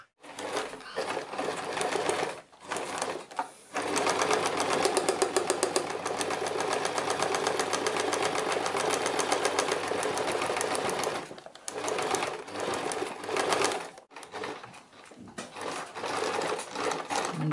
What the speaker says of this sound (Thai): เริ่มการเย็บนะครับ